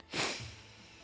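A single quick, quiet sneeze bursts out once and then fades into a soft hush.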